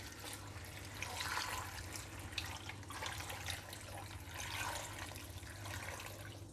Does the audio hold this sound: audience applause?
no